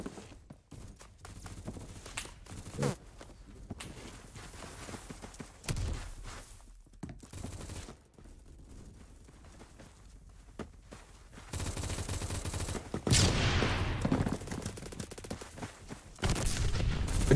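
Gunfire in an online shooter game, scattered bursts and single shots in clusters between quieter stretches, with louder sustained firing toward the end, no talking.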